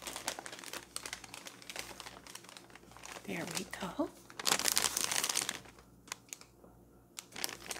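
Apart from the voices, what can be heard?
crinkling wrapping paper while opening present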